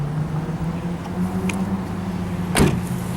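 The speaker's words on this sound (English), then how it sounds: "The trunk sounds very solid upon closing." The trunk lid of a 2011 Ford Crown Victoria slams shut once with a solid thud, heard up close after a steady low idle-like hum, with no voices.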